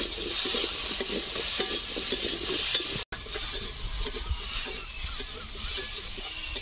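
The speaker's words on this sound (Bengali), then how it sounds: "আর লবণ হলুদটা দিয়ে দেবো। ভালো করে কষে নিতে হবে।" Rohu fish frying in a pan with salt and turmeric, a steady close sizzle with scraping and stirring strokes throughout and a brief dropout midway.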